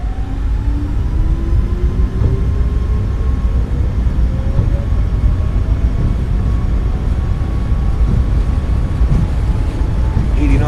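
Boeing 737 MAX 8 jet engines in a flight simulator spool up toward takeoff thrust, a loud steady roar with rising whine tones climbing across the clip.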